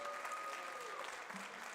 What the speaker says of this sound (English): one more huge, rousing round of applause for all of our student musicians